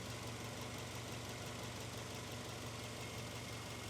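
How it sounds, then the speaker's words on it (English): A Subaru Impreza WRX GC8 with an EJ22 engine idles steadily at close range, a continuous dense rumble with a fine ticking texture thought to come from the passenger side of the engine; no talk. "That's kind of where I'm hearing the ticking sound emanate from."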